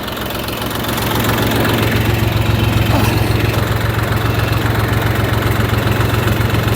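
A YTO 244 SX tractor pulling a Fiona D-70 seed drill while sowing winter wheat, its diesel engine a loud steady drone with a rhythmic knock that swells slightly at the start, then holds constant.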